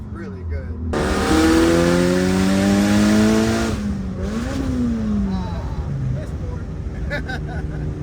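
Mitsubishi Lancer Evolution with an HKS exhaust revving: engine note climbs loudly, holds, drops and rises again, then settles to a rumbling idle, close and prominent.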